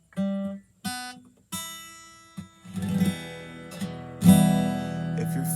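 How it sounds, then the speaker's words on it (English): Guitar strings plucked one by one, each note ringing out separately before the next, then a fuller strum near the end; close and clear. "So just hit the strings one at a time."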